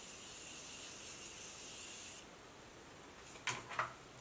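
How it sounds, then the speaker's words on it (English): Morphe setting spray misted onto a face: a steady, faint hiss of spray that stops partway through, followed by a couple of brief, quiet rustles near the end. "So now I'm going to spray my face with my Morphe setting spray."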